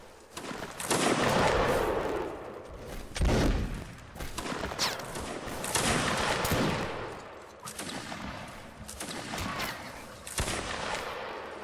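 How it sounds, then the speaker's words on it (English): Musket volleys in the video game Napoleonic Wars, a 25th Regiment of Foot line battle: repeated ragged bursts of gunfire rolling across the field in several waves, dense crackling fusillades with short lulls between. "commence fire at will, aim for chest"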